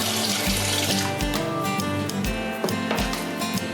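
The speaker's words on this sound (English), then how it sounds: "We're going to add some more water and do a second rinse." Tap water runs steadily into a bowl of rice being rinsed for sushi, with rhythmic swishing and light knocks as it is swirled, close and moderately loud.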